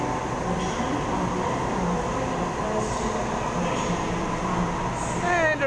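A Series 1 Waratah passenger train rumbles steadily through Wynyard station in Sydney, a continuous low roar with a brief rising squeal near the end.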